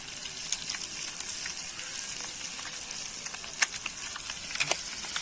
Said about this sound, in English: Now the boiled eggs are nicely fried.